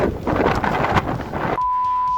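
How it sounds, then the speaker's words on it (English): Strong wind buffets the microphone outdoors in Moab in loud, uneven gusts with a low rumble, then cuts abruptly to a steady hum near the end. "it's very windy out here."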